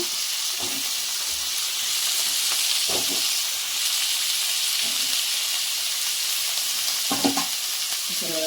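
Drumstick pieces and tomato fry in hot oil, giving a steady sizzle and hiss with a few soft scraping stirs, and no voices.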